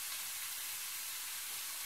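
A courgette ragu base of beef stock and tomato puree sizzling in a pan, a steady, even hiss of frying and bubbling heard alone and fairly close.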